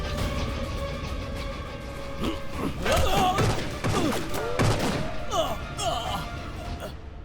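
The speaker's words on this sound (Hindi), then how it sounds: "गोली चलने की आवाज थी।" A gunshot in a Hindi-dubbed action horror film, a sharp thud among crashing impacts and a dense, dramatic movie soundtrack, with voices mixed in.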